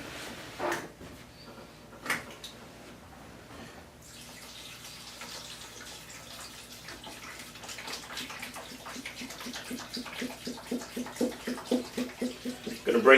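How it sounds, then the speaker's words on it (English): Distilled water pours into a stock pot in a home kitchen for roasted organic vegetable stock. After a few quiet bumps, a close, steady splashing stream builds and grows louder as the pot fills. "My distilled water."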